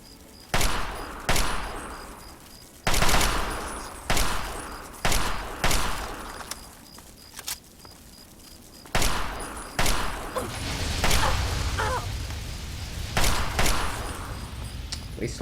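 Gunfire in Fallout 3 against giant ants, a dozen loud close single shots at uneven intervals, each with a short echoing tail, and a rumble between some shots.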